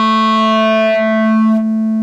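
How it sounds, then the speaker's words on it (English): A Korg Volca Modular synthesizer plays a loud, steady, buzzy tone with dense harmonics shaped by a wavefolder, shifting slightly brighter and then settling, heard alone without talk. "shaping harmonic content from a source oscillator was done with a wavefolder or a wave shaper"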